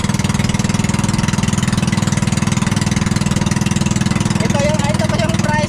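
A small engine machine runs close and loud with a fast, even chugging pulse throughout, while a voice talks briefly over it near the end.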